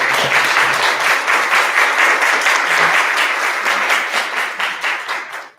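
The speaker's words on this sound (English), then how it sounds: "can we give a round of applause for our law enforcement today?" An audience at a human rights seminar breaks into sustained, dense applause for law enforcement, steady and close for several seconds before tapering off at the end.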